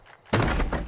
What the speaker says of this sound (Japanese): 扉を破壊 しながらね